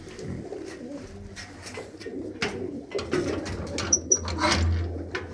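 Shah Aakhi breed pigeons cooing in new nesting boxes, soft low repeated coos close by with faint rustling and a few brief higher chirps, no talk.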